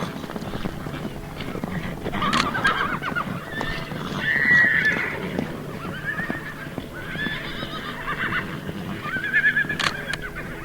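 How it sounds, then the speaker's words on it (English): A herd of horses runs through a paddock gate at the end of a drive, with repeated neighs and whinnies over a steady rumble of hooves, fairly close and continuous throughout. "the horses that have been in the drive before know this is the end and pick up the pace"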